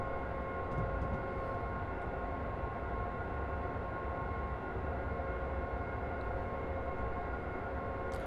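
A night train cruises down a straight valley line at steady speed in Train Simulator's Three Countries route, producing a continuous dense rumble and hum with faint ringing tones, unbroken throughout.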